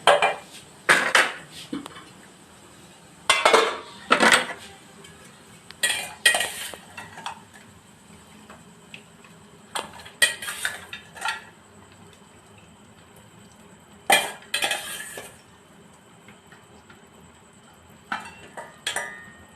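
Ghee-fried cashews and raisins go into a bitter gourd payasam, with sharp metal clinks and clatter of a spoon against the pan coming in irregular bursts separated by quiet gaps.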